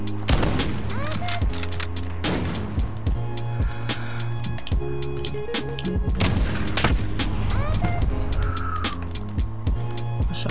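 Rapid bursts of gunfire from Call of Duty Modern Warfare crackle nearly nonstop, loud and close, with sharp repeated shots layered over a steady game backdrop and no talking.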